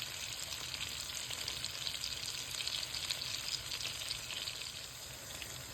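Shrimp sizzling in frozen butter melting in a pan for garlic butter shrimp, a steady close crackle and hiss holding at even loudness with no voices.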